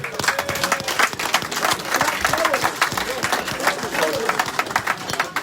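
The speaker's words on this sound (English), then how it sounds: "So a big round of applause for Paul." A crowd at a rugby clubhouse gathering claps in a dense, steady burst of applause lasting several seconds, with voices mixed into the clapping throughout.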